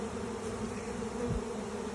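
A honeybee swarm settling onto a tree branch in an Ohio yard makes a steady, dense buzzing hum that fills the whole clip, with no talk.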